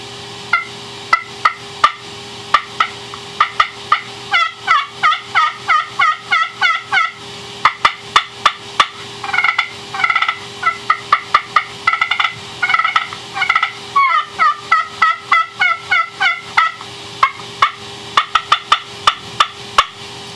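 Slate-on-slate turkey call made of spalted burl maple being played: rapid, close, clear yelps and clucks in bursting sequences, with short pauses between runs and no talking.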